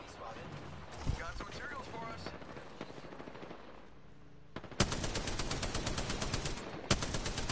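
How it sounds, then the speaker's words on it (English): Rapid automatic gunfire from a charge rifle in a multiplayer shooter, dense bursts starting midway and running to the end, close and loud, with excited players talking over the first half. "Oh, they got a charge rifle."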